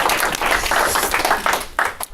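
An audience claps and applauds at a movement demonstration, with steady, dense clapping throughout.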